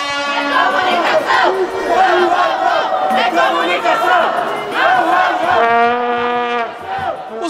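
Rowdy fans of a communications course team cheering at a university intercourse sports match on a campus court, loud chanting and yelling voices in unison with crowd noise, sustained and close.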